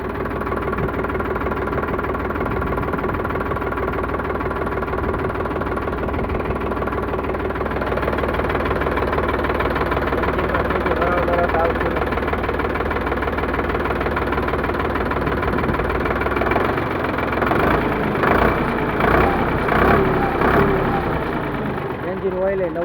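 A Sonalika RX 60 three-cylinder tractor idles close by with a steady low rumble and a knocking throb, and the engine vibration grows rougher toward the end while people talk over it.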